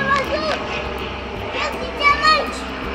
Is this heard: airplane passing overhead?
yes